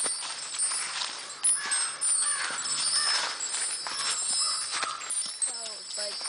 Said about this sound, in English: I think the wind chimes are calling the crows.